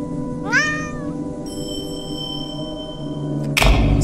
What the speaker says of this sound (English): Always room for one more cat.